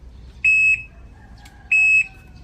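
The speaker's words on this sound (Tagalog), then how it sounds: "Pang atras talaga yan, eh. Ganun talaga ang tunog para malalaman yun sa likod." An electric bike's reversing beeper sounds two loud, sustained electronic beeps about a second apart, steady and piercing, close by with a faint background hum.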